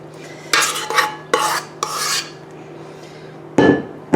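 Ice cream being spread across a sponge cake with a utensil, making a series of close, rough scraping strokes separated by short pauses.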